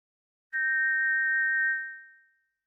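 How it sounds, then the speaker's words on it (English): A single clear, sustained tone from a shiny silver whistle blown in King's Quest IV, held steady for over a second before fading out against silence. "let's blow the whistle, shall we?"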